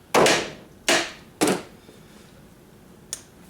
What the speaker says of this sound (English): give it a solid tap with the hammer.